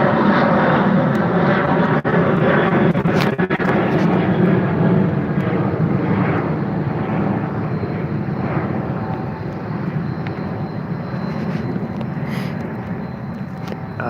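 Janet airline jet passing overhead near Area 51, a continuous loud engine roar that holds steady and eases off slightly toward the end, heard alone without talk.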